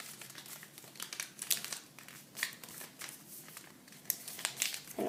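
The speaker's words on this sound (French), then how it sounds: "Et on va le plier dans ce sens." Paper being folded and creased by hand for an origami bird, a steady run of close crinkling and crisp rustles with sharper crackles, no voices.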